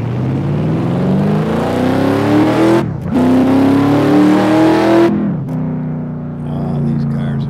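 Several cars rev and accelerate loudly and close by, engine pitch climbing in long sweeps, broken by two short gaps before another engine rises again.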